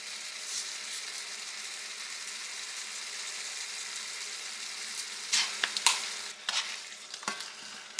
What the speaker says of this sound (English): I'm just going to get this ground beef browned up